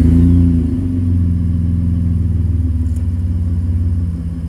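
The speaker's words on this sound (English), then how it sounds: "Had to get you a cold start of the Nissan." A Nissan Frontier engine turns over on a cold start and settles into a loud, close, steady idle with a throbbing low rumble and light clatter, no voices.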